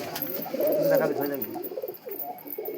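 Soft, throaty pigeon coos repeat close by inside a coop, overlapping one another in a steady murmur, with a little background noise.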